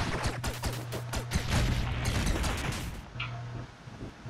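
Rapid gunfire from the B-Gun in the video game Owlboy, a dense fusillade of quick shots with a low steady hum beneath, running for about three seconds before breaking off to a quieter tail.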